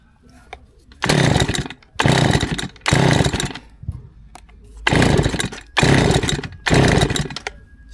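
An old brushcutter strimmer, unserviced for 30 years, with fresh fuel and the choke on, roars in six loud, close bursts of engine noise, each about a second long, separated by short quieter gaps.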